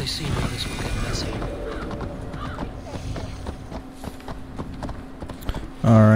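Hoofbeats of a horse clip-clopping at a steady gallop in Assassin's Creed Valhalla, a rhythmic drumming of hooves over a bed of game ambience and music, with a brief louder sound at the very end.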